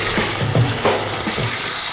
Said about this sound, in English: So after they've been all soaked overnight, I'm going to pour them all in a strainer.